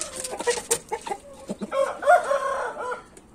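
A black chicken clucks in a series of short, close calls, ending in a longer drawn-out squawk, with a faint rooster-like crow mixed in and no talking.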